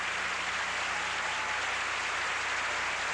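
A large telethon audience applauds steadily, producing a dense, even wash of clapping that holds at full strength throughout, with no individual claps standing out and no voices.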